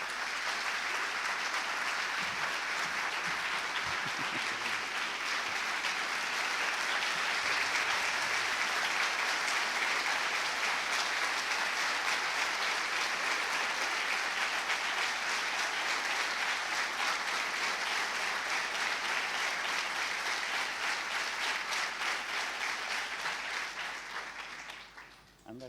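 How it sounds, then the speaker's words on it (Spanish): Sustained audience applause welcoming a guest speaker to a talk, a long, even roar of many clapping hands that holds steady for over twenty seconds before tapering off at the very end. "para quien pido un aplauso"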